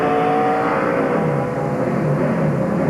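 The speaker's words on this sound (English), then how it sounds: "It just sounded like when he was going to a gear, nothing was there." Onboard engine of a Busch Series stock car, the Ford of Biffle, at Homestead, revving loud and steady as a gear change fails to engage, leaving a continuous whining roar with no clear shift.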